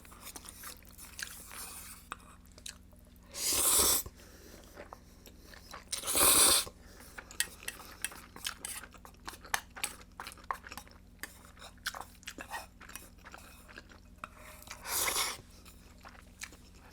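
Eating meatball spaghetti and mussels, with close, quiet chewing and mouth sounds throughout, and a few louder bursts of clattering cutlery or shells against a dish.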